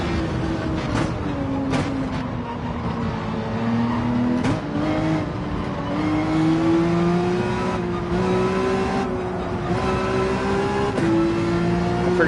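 A Red Bull race car in Gran Turismo 7 drones at steady high revs with turbo boost, its engine tone rising and dipping through gear changes, loud and close, with faint tire noise and no talk.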